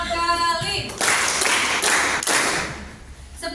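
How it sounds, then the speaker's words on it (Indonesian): Schoolteachers at an academic supervision coaching session clap together on count, producing a few sharp unified claps separated by short pauses, fairly close and clear. "Coba tepuk 1 kali, tepuk 2 kali, tepuk 3 kali,"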